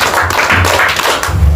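Students in a classroom clap for a classmate, a brief dense patter of many hands close by, with a few low thumps near the end.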